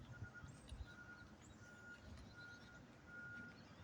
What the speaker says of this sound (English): that's a backup beeper to a goddamn truck